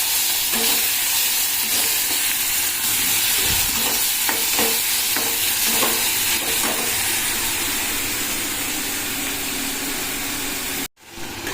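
Tomatoes tipped into a hot pan with cumin and a little sugar burst into a loud, steady hiss that fills the whole stretch, with a few soft stirring knocks early on before a brief cut near the end.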